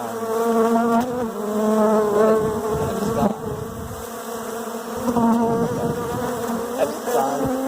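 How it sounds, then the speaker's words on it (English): A honeybee swarm drones loudly and continuously around a beekeeper during a swarm capture, the dense buzzing close and steady with pitch wavering as bees circle near and away. "There's a swarm around me"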